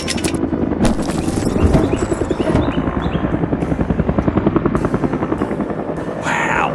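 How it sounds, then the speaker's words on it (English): An orange animated helicopter flies in a construction scene, its rotor chopping in a rapid, steady pulse that is loud and close and runs under brief bursts of other effects. "An orange helicopter has arrived to lift the paver away to safety."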